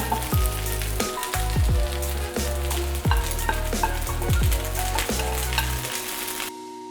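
Spring onion stir-fried into spicy chicken fried rice in a hot pan: a continuous loud sizzle with repeated scraping spatula strokes in an uneven rhythm, close up, cutting off abruptly at the end.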